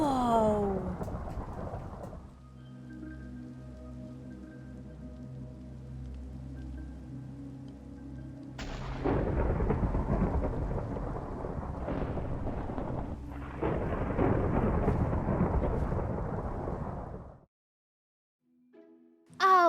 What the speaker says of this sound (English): The lightning is striking my boat because it has a copper rod.